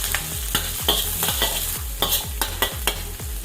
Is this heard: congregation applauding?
no